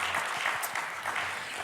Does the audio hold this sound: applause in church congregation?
yes